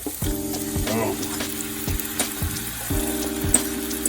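Liquid is poured into a hot pan of browning chashu pork and garlic for a Japanese chashu bowl, giving a watery rush and sizzle against steady background music.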